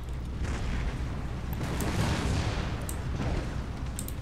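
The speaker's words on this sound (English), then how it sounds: "modern artillery is just devastating" Cannon fire and explosions on a battlefield in the strategy game Empire: Total War, a dense, continuous rumble of booms and blasts rolling together without a break.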